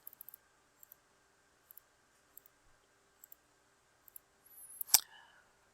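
Computer mouse clicks, mostly in quick pairs, spaced a second or so apart across a quiet room, each short and faint, with a brief louder rustle near the end.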